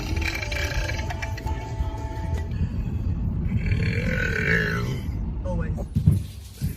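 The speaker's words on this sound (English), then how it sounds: "You just know it's going to be good when you got the inhale burp." A low, rough burp drawn out on an inhale rumbles for several seconds, close and loud, followed by brief talking.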